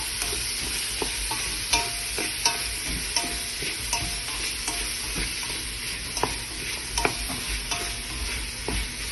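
Tomatoes and beets sautéing in a pan for beetroot pulao, a steady loud sizzle broken by repeated scraping stirs of a spoon against the pan, no voices.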